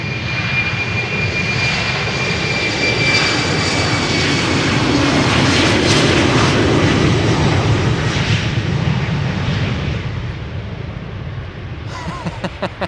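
KLM Embraer 190 jet taking off at Amsterdam Schiphol Airport, a loud, sustained engine roar with rising whine that builds, then fades as the plane climbs away, with faint wind buffeting at the end.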